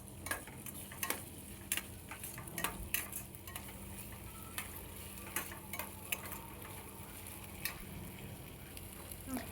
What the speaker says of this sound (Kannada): ನೋಡಿ, ನಾನು ಈ ರೀತಿ ಫ್ರೈ ಮಾಡ್ತಾಯಿದ್ದೀನಿ.